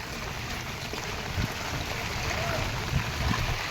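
Knee-deep flood water after torrential rain in Khambhalia, sloshing and churning in a dense, continuous wash with low swirling surges as someone wades through, close and fairly loud.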